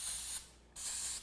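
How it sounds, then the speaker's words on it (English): Throttle body and air intake cleaner sprayed from an aerosol can over a rifle being prepped for paint, two loud close hissing bursts separated by a brief pause. "Throttle body and air intake cleaner. I just spray the whole gun down with it."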